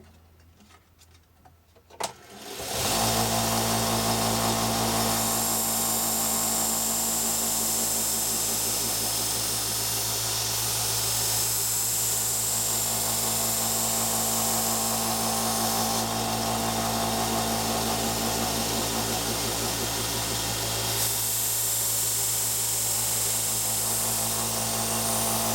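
Belt sander running a 240 grit belt to sharpen a knife: a click, then the motor spins up into a loud, steady whir with a constant tonal hum and a faint rhythmic ticking, sustained without a break.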